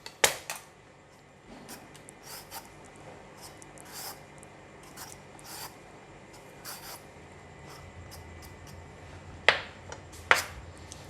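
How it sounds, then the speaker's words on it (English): A knife pares the skin off a hairy melon with soft, intermittent scraping strokes up close, broken by a couple of sharper clicks near the end, and no talking. "So we want to cut the skin first."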